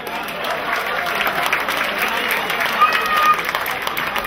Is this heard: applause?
yes